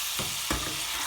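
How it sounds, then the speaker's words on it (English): Lamb browns in a pan over medium heat, giving a steady, close sizzle and crackle broken by a few soft stirring scrapes. "3 to 4 minutes that we've been browning, sealing the lamb on medium heat"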